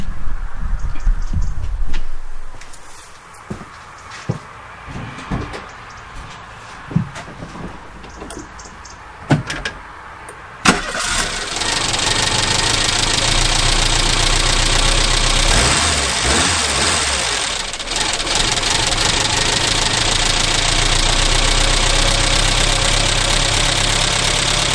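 An old Renault Twingo with an ignition problem, first some clunks and knocks, then the engine starts at once and settles into a steady loud idle with a slight rise partway.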